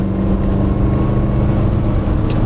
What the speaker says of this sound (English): So she goes up this hill. This is a proper big one. With just over 50 brake horsepower.